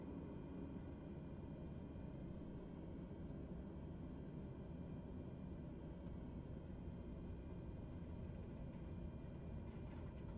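A King Air turboprop in Microsoft Flight Simulator produces a steady, even engine drone that holds at a constant low rumble throughout, with no speech.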